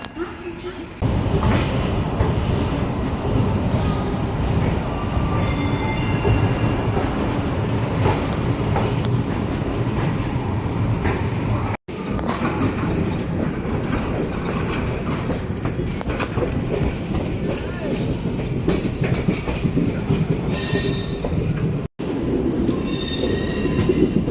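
A MEMU passenger train runs from Bangalore toward Jollarpettai, its steady rumble and rattling wheels loud and continuous, with brief squeals from the rails and a voice talking now and then.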